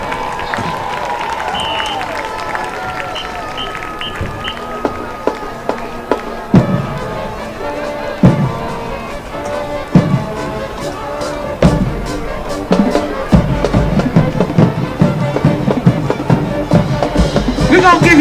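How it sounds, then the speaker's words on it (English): A crowd at a high school football game, Alamo Heights versus Sam Houston, claps and cheers loudly and steadily, with sharp individual claps, some stomps and a voice over a PA system above the noise. "So now I'ma really need y'all to start clapping and making some noise"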